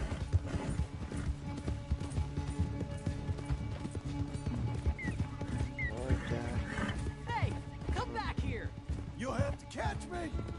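A horse gallops in Red Dead Redemption 2 during a race, with steady rapid hoofbeats close by, occasional snorts and whinny-like calls, and people talking over the top.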